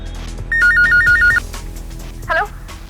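Electronic telephone ringback trills in a quick warbling pattern for about a second while a call is placed to a police officer, followed by a short rising electronic tone, with faint background sounds.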